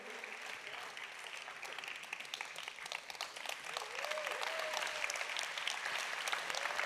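Conference attendees at a climate finance plenary applaud, steady clapping that grows fuller partway through, with a few distant voices and faint whoops rising above it.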